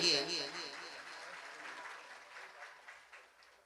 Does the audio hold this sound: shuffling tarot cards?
no